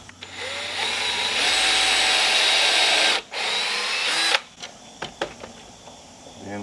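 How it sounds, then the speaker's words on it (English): A power drill bores a hole during cabin repairs on a homestead, a loud close whine running steadily for a few seconds, briefly cutting out and resuming, then stopping into a few knocks and handling sounds. "Go ahead and drill our hole."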